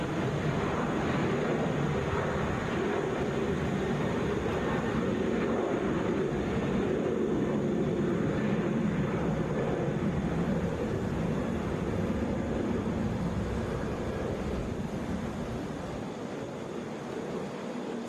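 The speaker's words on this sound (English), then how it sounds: "This is Southwest 863 going to St. Louis," Southwest Airlines Boeing 737 airliner at Atlanta airport, a steady broadband jet roar that holds loud and even, then eases slightly toward the end, with no voices over it.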